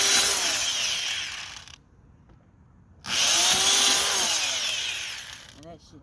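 Power drill boring a hole in a Ram 3500 truck, two loud close whining bursts with the motor pitch shifting under load, separated by a short quiet gap.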